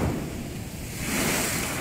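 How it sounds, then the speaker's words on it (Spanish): Rough sea surf pounding the shore on a wild morning, a continuous roar of breaking waves with wind gusting into the microphone, swelling louder toward the end with no voices. "Así está el mar en esta mañana."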